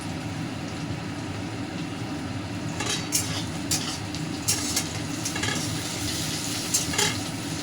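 Onions and slit green chillies frying in a pan for a katla fish head and taro leaf dish give a steady low sizzle, with scattered sharp scraping clicks of stirring and no speech.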